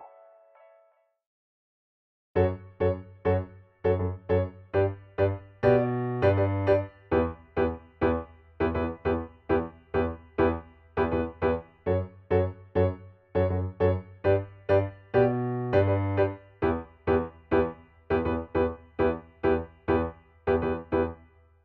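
Solo piano plays the main riff of a song, a steady run of clear, evenly spaced chords and notes with a bouncing low line, loud and close. A brief softer tone sounds before the riff begins.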